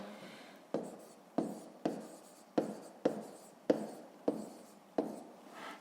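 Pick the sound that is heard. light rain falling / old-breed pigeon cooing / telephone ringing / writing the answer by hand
writing the answer by hand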